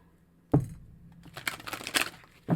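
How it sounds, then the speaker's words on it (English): Thick cardstock animal oracle cards are shuffled by hand, starting with a sharp tap, then a run of crisp, rapid riffling clicks that build and fade, ending with another tap, close and fairly quiet with no talk. "they're just a little harder for me to shuffle"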